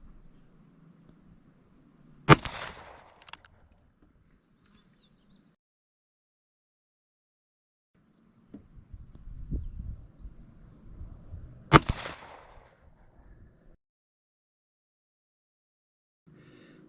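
Two sharp, loud gunshots from a Ruger GP100 revolver during an ammunition test, about nine seconds apart, with quiet gaps and faint low rumbling between them.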